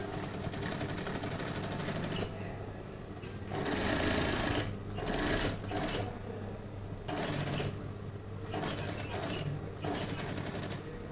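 A sewing machine top-stitches a basic long-sleeved shirt in fast, rattling bursts separated by short pauses, close and fairly quiet, with no speech over it.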